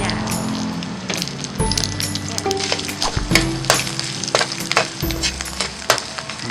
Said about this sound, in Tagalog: Using same pan, igigisa natin yung itlog na maalat.